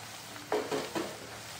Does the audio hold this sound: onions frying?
yes